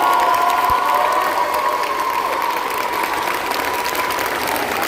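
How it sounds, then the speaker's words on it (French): Audience at a Japan Châteauroux 2025 cosplay contest applauds and cheers the contestants, a dense, steady wash of clapping and crowd noise with whoops rising above it, sustained loudly throughout. "Applaudissez-les bien fort."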